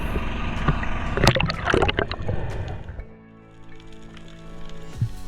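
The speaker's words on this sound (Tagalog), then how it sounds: "pinalagpas ko muna itong bangka na ito." A boat moves past over water, a loud mix of engine hum and splashing that fades after a few seconds, leaving a quieter low drone.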